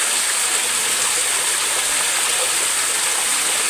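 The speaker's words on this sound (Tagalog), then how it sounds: "Ganda ng falls mga idol eh." Waterfall at Barangay Pansol, Quezon, plunging into a clear pool, a loud, steady, close rushing roar with no break and no voices.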